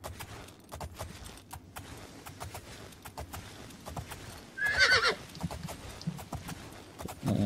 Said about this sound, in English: What was that noise? I know it was a horse noise